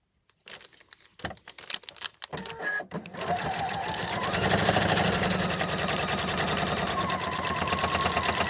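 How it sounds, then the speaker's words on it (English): A domestic sewing machine stitches a straight seam on a foundation-pieced Christmas tree quilt block, starting with a few short bursts and handling clicks, then running steadily at close range with a fast even whir. "we're going to stitch along that line next"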